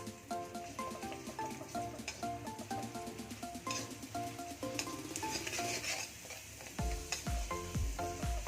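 Garlic and turmeric are stirred in oil for lasaniya sev mamra, giving a soft sizzle with repeated scraping strokes of a spoon in the pan beneath music, and a few heavier knocks near the end.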